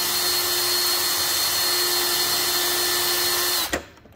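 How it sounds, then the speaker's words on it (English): A power drill whines steadily and loudly as its bit bores through a part during the build of a 1.6 m Fieseler Fi 186 Storch model aircraft, then stops abruptly near the end. "Please don't break, drill bit."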